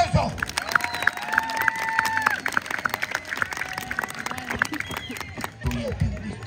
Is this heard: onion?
no